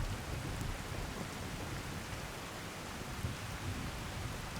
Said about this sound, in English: As out of the rain as we can.